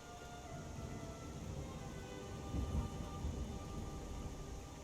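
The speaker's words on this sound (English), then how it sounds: "The sound of what seems like thunder in the distance." Distant thunder rolls through a quiet village ambience in the Skyrim video game, a low rumble swelling briefly midway over a steady bed of environmental noise.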